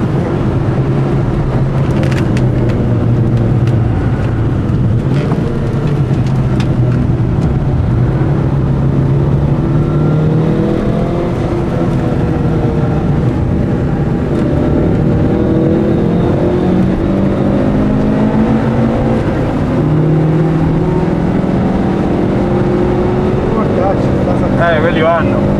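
A Mitsubishi Eclipse race car runs on the Magione circuit, its engine a loud, close, continuous drone whose pitch climbs and falls repeatedly through gear changes for the whole stretch.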